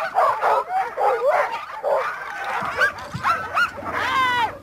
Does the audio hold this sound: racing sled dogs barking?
yes